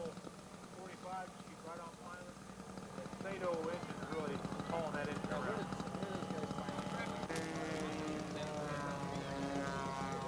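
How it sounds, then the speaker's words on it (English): A scratch-built Week Special RC model airplane buzzes steadily as it flies continuous rolls through a high circle at a 1987 event, its engine drone rising slightly and holding fairly loud beneath a commentator's talk. "Up high, rolling the airplane continuously while he's doing a 360-degree circle"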